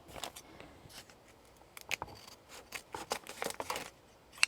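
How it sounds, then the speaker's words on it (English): Soft, quick snips of scissors cutting paper while trimming a handmade journal cover, several short crisp cuts in uneven bursts, close but quiet, with no voices. "I can finish it off here with my scissors."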